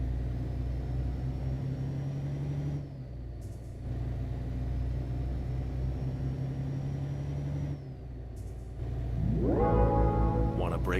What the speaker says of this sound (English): I am liking the sound of this truck